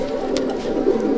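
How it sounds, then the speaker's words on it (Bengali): Ananda racing pigeons, ringed birds, coo softly in a loft, a steady low murmur of several birds close by with a few brief higher chirps over it. "সব আনন্দ পায়রা এগুলো।"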